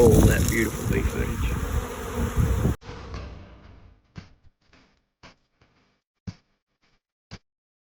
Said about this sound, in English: Roll that beautiful bee footage.